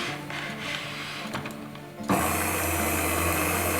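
Electric mixer whisking egg yolks with apple cider vinegar, salt and Dijon mustard for mayonnaise, switching on abruptly after some light handling noise and then whirring loudly and steadily.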